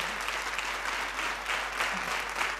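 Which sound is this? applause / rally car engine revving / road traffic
applause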